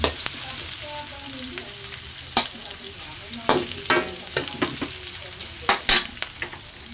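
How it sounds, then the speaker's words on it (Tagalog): Garlic and onion sauté in hot oil for pansit bihon, giving a steady close sizzle broken by sharp scraping and clacking as a utensil stirs the pan. "yun yung bawang sibuyas natin. Gigisa"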